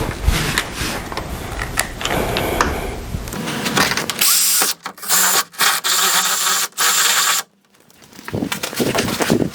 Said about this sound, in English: get a 10mm drill bit, attach it to my drill, and drill this hole that's right here